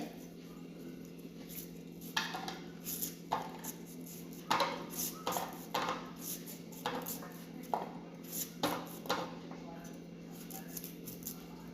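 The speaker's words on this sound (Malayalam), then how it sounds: "ഇനി മാങ്ങ ഒന്ന് കട്ട് ചെയ്തെടുക്കട്ടെ" A knife cutting mango for a prawn chutney, giving a series of sharp, irregular taps on a board, fairly faint and close, with quiet gaps between cuts.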